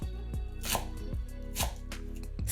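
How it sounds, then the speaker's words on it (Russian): Knife chopping a bunch of parsley and dill on a cutting board: a handful of crisp, fairly close thuds at an uneven pace, with no voices. "Пучок петрушки и укропа измельчаем ножом."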